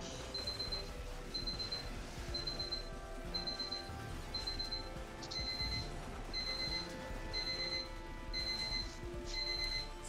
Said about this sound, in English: Sounds like there's an alarm going off somewhere.